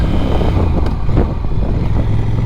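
A manual-gearbox motorcycle engine drones loudly and steadily while riding, its low rumble partly buried under heavy wind buffeting on the microphone, with no talking.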